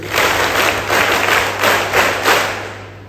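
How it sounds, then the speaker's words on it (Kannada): A hall of students at a college achievers' ceremony in Bailur claps in tight unison, about five sharp group bursts evenly spaced, loud and close with no talking, over a low steady hum. "ಒಟ್ಟಿಗೆ 5 ಬಾರಿ ಚಪ್ಪಾಳೆ ತರಬೇಕು."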